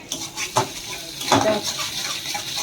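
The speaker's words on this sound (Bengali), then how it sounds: "দই মাছের মশলা কষা হচ্ছে" Curd fish masala being stir-fried in a pan, with a few clanks of a spoon against the pan and a soft sizzle in between.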